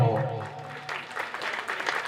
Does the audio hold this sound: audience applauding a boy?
yes